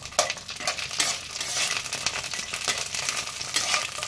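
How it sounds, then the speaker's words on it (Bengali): Masoor dal bori dumplings fry in hot oil with a constant crackling sizzle, broken by sharp clicks and scrapes of a spoon stirring them in the pan. "একটু হালকা নাড়াচাড়া করে কিছুক্ষণ ভেজে নিচ্ছি"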